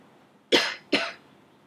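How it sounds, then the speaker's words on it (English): Two close, sharp coughs follow each other quickly from a single person in a quiet room, with nothing else heard around them. "cough,"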